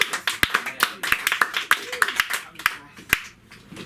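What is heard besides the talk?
audience applause for comedian Anya West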